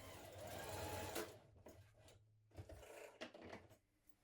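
A sewing machine stitches blouse seams, a faint whirring run at first followed by short stop-start bursts and soft fabric handling, with no talk.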